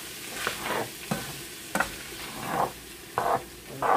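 Rice and vegetables with sprouts toasting in a hot pan for a pork stir fry, a steady close sizzle with repeated scraping stirs every half second or so, no voices.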